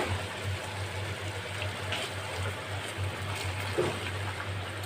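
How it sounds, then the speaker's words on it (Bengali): Water poured into a simmering yogurt curry paste for a Bengali doi katla fish curry, a soft continuous trickle with a steady low hum from the cooking underneath, close and moderately quiet. "এটার মধ্যে আমি একটু সামান্য একটু জল দিয়ে দেব"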